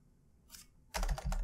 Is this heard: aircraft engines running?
no